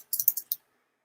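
Someone types a link on a computer keyboard: a short, quick burst of about five crisp keystrokes, close and fairly quiet, followed by silence.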